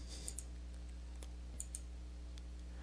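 Mouse clicks in Microsoft Excel 2013 while working the View tab and zoom controls, a few sharp, quiet clicks spaced irregularly over a faint steady background hum.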